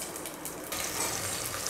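Onions hit hot ghee in a pan and break into a steady, close sizzle that grows louder and brighter partway through, with soft crackling spread evenly across the frying.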